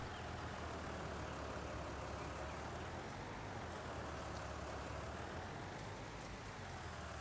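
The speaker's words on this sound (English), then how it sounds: "This tractor's putting in work for sure." A Ford tractor engine in Farming Simulator 19 drones steadily at constant loudness, a continuous low rumble with broadband hum, no changes in pitch or pace and no talk.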